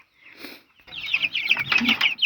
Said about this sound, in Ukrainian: Дивіться, які які славненькі курчата вже в нас, да?